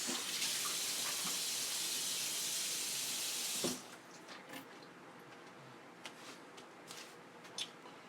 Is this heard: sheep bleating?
no